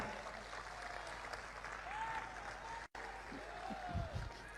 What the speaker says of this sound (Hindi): यहां तो तालियां बजी।